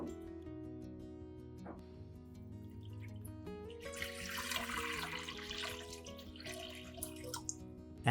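Two liters of water stream steadily into a baking soda solution, a broad splashing wash building midway and continuing to the end, with faint dripping earlier and a soft background hum.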